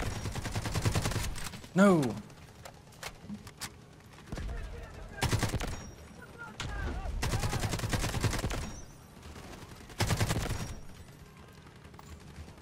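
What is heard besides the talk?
AKM rifle gunfire in Delta Force video game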